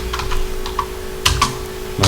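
Code comments being typed on a computer keyboard: light, irregular key clicks at a close, steady pace, with a few louder taps and a constant low electrical hum underneath.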